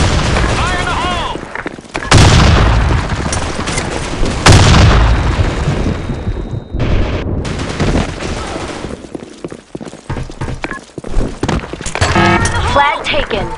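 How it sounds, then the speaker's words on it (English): Several grenades explode in the Black Shot shooter game, with heavy booms a couple of seconds apart and crackling gunfire between them, as game voices shout callouts over the action. "Fire in the hole!"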